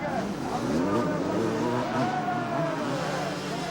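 Several 1993 250cc motocross bikes race and jostle for position in a world championship Grand Prix, their engines buzzing and revving continuously at close range, with an excited commentator talking over the roar.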